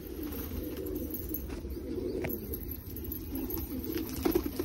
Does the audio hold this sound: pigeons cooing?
yes